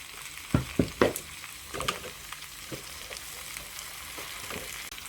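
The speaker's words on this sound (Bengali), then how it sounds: "পেঁয়াজটা যখন সফট হয়ে যাবে তখন পাতাকপিগুলো দিয়ে দিচ্ছি" Large-cut cabbage pieces going into a pan of softened onions, with a few clattering stirs up front and then a soft, continuous frying hiss, close and fairly quiet.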